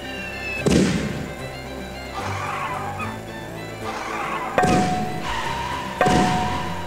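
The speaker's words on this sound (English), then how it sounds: "Roman candle!" Roman candle weapon fires in the Cro-Mag Rally racing game, three sharp bursting bangs spaced a second or two apart over a continuous engine and music bed, each shot trailing off in a fizzing hiss.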